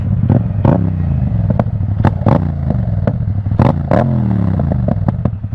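Yamaha MT-07 motorcycle engine revving up and down, its close, throaty drone punctuated by a series of sharp, crackling exhaust pops and bangs.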